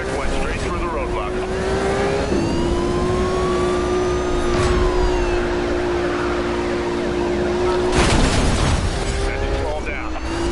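A car engine roars steadily during a police pursuit in a video game, sirens wailing and rising over it, with radio chatter and voices talking throughout.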